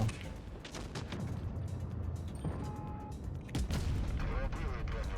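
Dense, rumbling gunfire and heavy booms fill the scene in World of Tanks Blitz, with a loud Kampfpanzer 70 tank cannon firing a high-explosive shell near the end amid constant battle noise.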